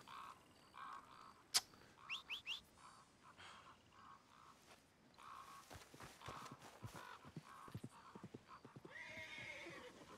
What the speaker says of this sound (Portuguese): Meu cavalo